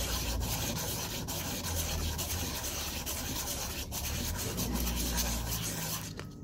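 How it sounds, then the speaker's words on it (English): Sandpaper rubbing across an upturned metal bezel setting in a figure-of-eight motion while reducing its height during jewellery making; a steady, continuous close-up scraping rasp with no pauses and no talking. "The other option is to get my sandpaper, have the setting upside down,"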